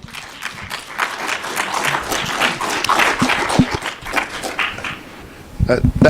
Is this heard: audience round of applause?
yes